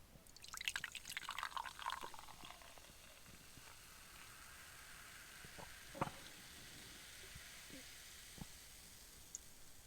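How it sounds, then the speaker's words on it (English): A fast-food drink poured from a bottle or cup, with bright splashing and trickling for the first few seconds, then faint scattered drips and small clinks, close and quiet. "Let's pour it and have a big swig"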